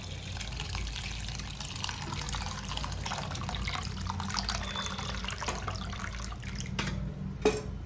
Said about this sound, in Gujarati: પાણી એડ કરીને બફવા માટે મૂકી દઈશું